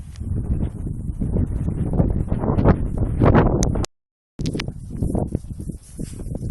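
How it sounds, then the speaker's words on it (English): Heavy wind buffets the microphone with loud, roaring gusts, cutting out briefly before the rumbling resumes. "It's very windy, so I don't know if you can hear much today."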